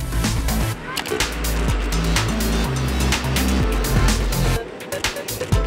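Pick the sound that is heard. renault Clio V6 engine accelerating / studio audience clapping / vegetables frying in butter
renault Clio V6 engine accelerating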